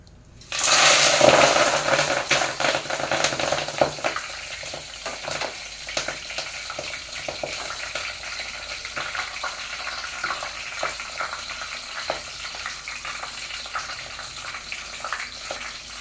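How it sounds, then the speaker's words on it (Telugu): Ingredients drop into hot oil with a sudden loud burst of sizzling that then settles into a steady, busy frying crackle, close and alone. "ఇప్పుడైతే ఇవన్నీ ఆయిల్ వేడెక్కుతున్నాయి కాబట్టి మనం ఇవి ఆయిల్లో వేసేద్దాము"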